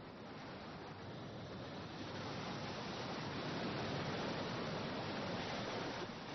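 Tidal bore waves surge up a river as a continuous, even rush of broadband water roar, with no voices or breaks.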